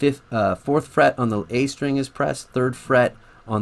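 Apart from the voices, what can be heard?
No distinct noise like a dog, phone or traffic.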